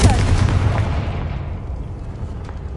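Confringo fire spell explosion in the Hogwarts Legacy video game, a loud booming blast with a heavy low rumble that decays over about three seconds.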